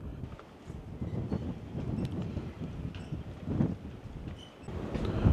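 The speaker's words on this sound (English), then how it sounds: "All right, it's really windy and cold out here." Strong wind at an outdoor shooting range roars and buffets the microphone steadily in low rumbling gusts, rising and falling over the full length.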